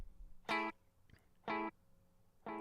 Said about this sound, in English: what you're going to hear is a little bit of harmonic distortion brought into the mix, and then also some recursive filtering